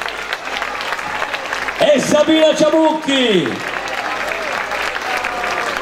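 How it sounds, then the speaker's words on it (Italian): A concert audience at a benefit show in Montecelio applauding, a sustained wash of clapping under someone speaking into a microphone, with a loud amplified sung or spoken phrase in the middle. "abbiamo applaudito, rifacciamolo"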